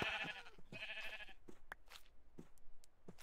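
A sheep in the Minecraft video game bleats twice in quick succession, followed by several short clicks and soft thuds from the game.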